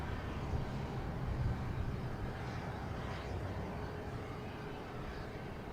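An American Eagle regional airliner bound for Rochester taxis or rolls at Boston Logan, a moderate, steady engine rumble with a faint whine, fairly distant and unbroken.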